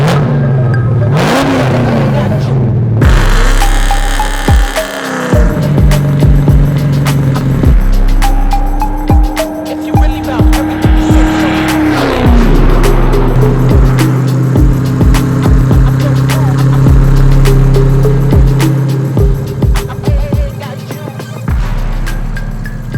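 A 750-horsepower LS9-powered Chevy Chevelle drives hard, with loud repeated engine surges and revs between gear changes and sharp popping bursts, heard up close over about twenty seconds.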